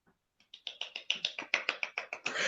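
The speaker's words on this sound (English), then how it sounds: "So the rest of the gentlemen stand there and they do this very minimalistic clapping" Soft, minimalistic clapping from a small group of gentlemen in a film scene, starting with a couple of faint claps and building into a rhythmic series of a dozen or so light, crisp claps that swell slightly at the end.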